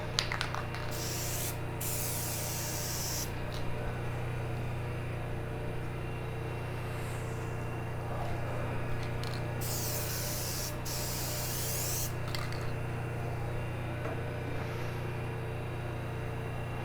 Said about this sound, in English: Spraying down some adhesive